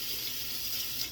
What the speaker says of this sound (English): I think I like the pressure of the faucet